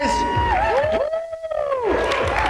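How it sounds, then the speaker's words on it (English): Crowd at a recognition event cheering with whoops and high shouts, with applause and chatter mixed in and a continuous lively roar throughout. "Give them a round of applause, guys"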